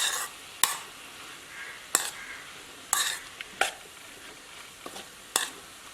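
Chicken green gravy frying in a pan over a low flame, a steady soft sizzle broken by a handful of sharp clinks and scrapes of a spoon stirring against the metal, close and fairly quiet.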